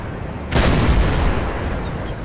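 Tank cannon fire in the World of Tanks video game: a single loud, sudden broadband boom that sets in sharply and then rolls on as a sustained rumble with a long tail.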